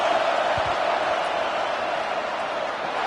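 Stadium crowd at a football game making noise during a field goal attempt, a broad sustained roar of many voices at a steady level throughout.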